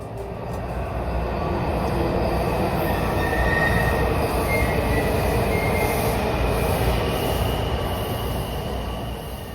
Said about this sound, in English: The last Red Line train bound for Shady Grove will depart Union Station at 11:59